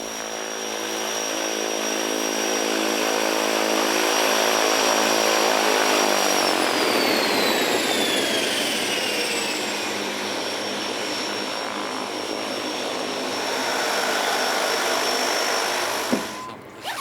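A tandem-seat trainer aeroplane flies past at the Göteborg Aero Show in Sweden, its propeller engine droning loud and steady, the pitch dropping as it passes, then fading out.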